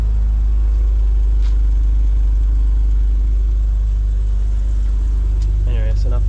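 A rusty widebody BMW Z3 engine idles steadily nearby, a heavy continuous low rumble throughout, with a brief voice near the end.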